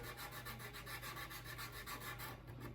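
Sandpaper of 320 grit rubbing back and forth over a file-marked metal bridge on a 1966 Gibson SG Junior, a steady rhythmic scratching of even strokes, close and continuous with no talk.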